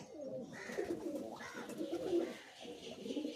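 Pigeon cooing close by, a few low throaty coos running together over roughly three seconds, with no talking during the calls.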